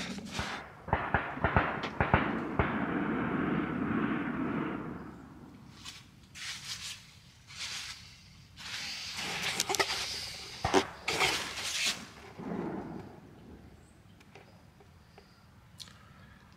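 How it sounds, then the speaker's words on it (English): Several sharp, distant gunshots from hunting season ring out at irregular intervals over a quiet outdoor campsite background, with soft rustling and handling noise close by. "so there's lots of gunshots this morning"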